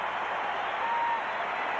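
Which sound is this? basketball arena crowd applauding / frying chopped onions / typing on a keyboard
basketball arena crowd applauding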